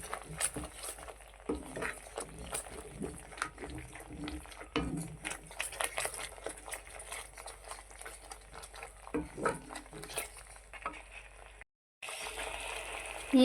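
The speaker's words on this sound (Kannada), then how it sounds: "ಅರ್ಧ ಸ್ಪೂನ್ ಗರಂ ಮಸಾಲೆ ಹಾಕೋಣ. ಚೆನ್ನಾಗಿ ಫ್ರೈ ಮಾಡ್ಕೊಳ್ಳೋಣ." Garam masala fries in a pan for a restaurant-style capsicum curry, a soft sizzle under busy, repeated scraping and stirring strokes that stop briefly before resuming.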